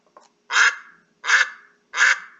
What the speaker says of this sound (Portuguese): Olha o pato.